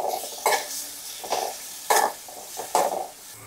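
A spoon works through Maggi noodles in a pan with chili powder, garam masala and softened tomatoes, giving four distinct scraping clinks against the metal at a steady, unhurried pace, close and fairly loud with quiet gaps between strokes.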